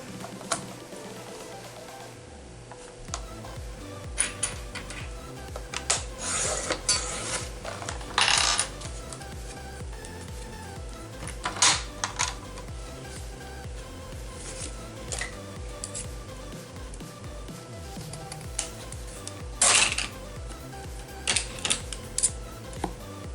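Scissors cut a leftover piece off a handmade Christmas card, making a series of short, crisp snips and clicks that come in bursts over a steady background, close up and with no talking.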